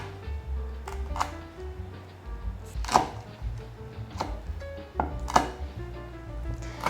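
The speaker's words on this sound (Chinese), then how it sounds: "先切条， 还没有全软，但是刀子是切得下去的。" A knife cutting partly softened dried pork skin into strips on a board, with several firm, irregularly spaced chops ringing out near and clear against a low background hum.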